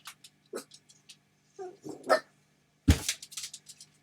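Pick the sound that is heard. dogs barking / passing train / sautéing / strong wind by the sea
dogs barking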